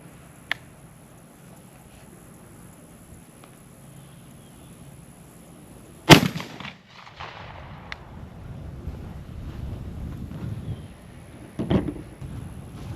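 A single loud shotgun blast, Chenier number 6 shot through a passing choke fired at 25 yards outdoors, cracks sharply and rolls away in a low echoing rumble over faint background ambience.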